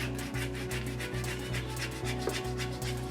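Steady back-and-forth scrubbing on a bathroom surface to lift dirt, a continuous close rasping rub with a regular stroke rhythm of roughly two or three passes per second, no talking.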